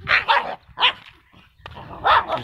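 A dog barks in several sharp bursts while being taken out for a bathroom break on an evening walk, close and loud, with brief pauses between barks and no talking.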